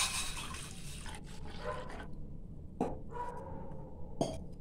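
Roughly half a tumbler of water poured into a pot for a cumin drink, a steady hiss and splash followed by a few shorter splashes, close by.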